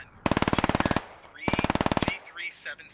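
Two rapid bursts of automatic gunfire in a military shooter game, each a loud, evenly spaced string of about a dozen shots, followed by quieter scattered in-game sounds.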